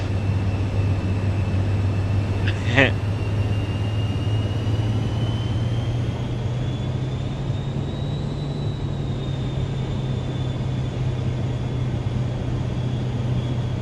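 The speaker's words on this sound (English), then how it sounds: "Full power coming at you." A Cirrus Vision Jet's engine run up to full takeoff power in Microsoft Flight Simulator 2024: a loud, steady jet roar with a low drone and a high whine that climbs slightly in pitch, with one brief click early on and no talking.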